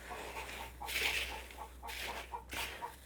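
A farm hen clucks after laying an egg, repeating soft rhythmic clucks broken by a few louder, rising cackles, heard at moderate distance over a quiet background hum.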